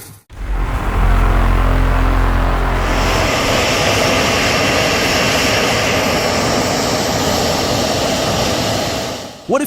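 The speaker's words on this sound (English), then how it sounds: "What if you took a jet engine designed for airplanes and put it into a car?" A loud, steady roar with a high whine over it from an aircraft jet engine fitted in a car, starting with a deep rumble and holding strong and close throughout.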